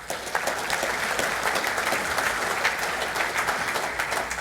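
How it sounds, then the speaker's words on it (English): Steady applause from a large audience at a business council conference opening, a dense, even patter of many hands clapping continuously throughout. "Another big round of applause."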